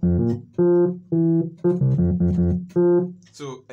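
Makossa bridge passage played on a melodic instrument, with sustained pitched notes in short phrases separated by brief gaps, close and fairly loud with no talking over it.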